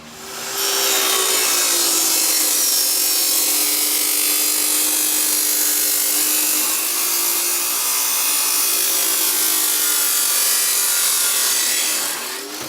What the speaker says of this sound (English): I'm going to cut off just the flange, just the larger part of the pipe